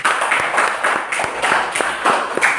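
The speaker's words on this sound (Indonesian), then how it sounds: "Oke, saya kasih tepuk tangan dulu." Hands clap in a steady rhythmic round of applause from a small classroom group, fairly close and clear, with no talking over it.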